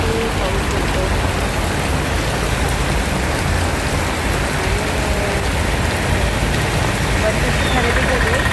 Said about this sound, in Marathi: तिथे खूप पाऊस पडतो